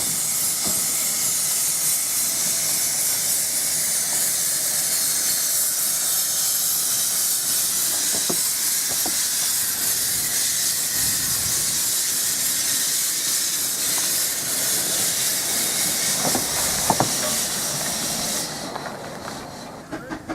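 Vale of Rheidol narrow-gauge steam train arriving at Devil's Bridge, Wales, bound for Aberystwyth: a steady, loud hiss of steam fills the whole stretch, with faint clanks and thuds of the approaching carriages, tapering off near the end.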